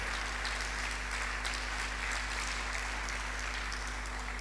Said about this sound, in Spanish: Si ese aplauso es para Dios, démoselo con todas nuestras fuerzas.